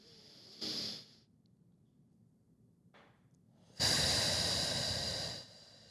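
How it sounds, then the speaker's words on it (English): Deep breathing during a podcast exercise, a short breath followed by a faint catch, then a long, loud, breathy exhale of about a second and a half, close to the microphone, with no talking. "Inhale. Good, better. Exhale. Do one more big one, big one."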